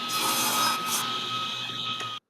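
A saw cuts through a short length of white oak hardwood stock while fitting a sliding hook to a taper jig, giving a close, steady rasping cut for about two seconds that stops abruptly.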